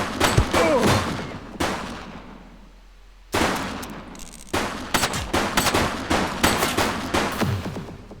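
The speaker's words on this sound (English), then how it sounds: "She's shooting!" Gunfire in The Precinct video game: dense bursts of rapid shots crackle through most of the stretch, pausing briefly before resuming in loud, repeated volleys.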